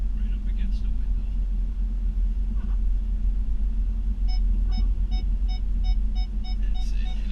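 Snow plow truck backing up on a big concrete driveway, a steady low engine rumble with a rhythmic reverse-alarm beep repeating in the second half, under occasional talk.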